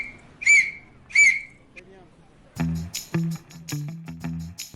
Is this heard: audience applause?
no